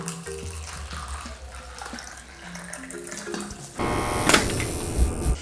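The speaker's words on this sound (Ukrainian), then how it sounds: "Наливаємо дистильованої водички" Distilled water is poured into a container at a tattoo artist's workstation, quiet handling and clinking giving way to a loud, close, steady splashing stream in the final seconds.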